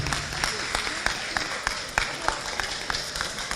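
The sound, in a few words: audience applause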